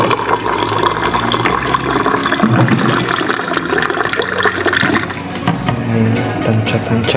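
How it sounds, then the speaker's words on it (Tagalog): Water poured steadily into a cooking pot for oats, a continuous close splashing and gurgling that lasts throughout without a break. "lagay tayo ng tubig"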